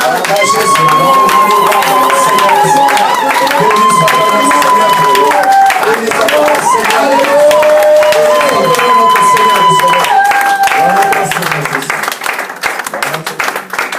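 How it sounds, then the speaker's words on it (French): A church congregation cheers, claps and shouts in praise, with a voice singing or calling over the sustained crowd applause that fades slightly at the end. "Voilà pourquoi nous acclamons pour la gloire de l'Éternel"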